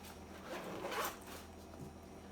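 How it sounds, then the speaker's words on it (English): A zipper being drawn around a J World Corey lunch bag, its cover pulled over the dome-shaped part, gives a steady close rasp for about two seconds with no talking. "you put it over it, and you zip it around."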